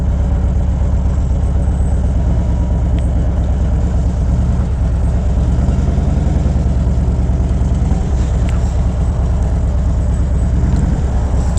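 A car engine idles and rumbles steadily on a road, a continuous low drone held close throughout with no talk over it.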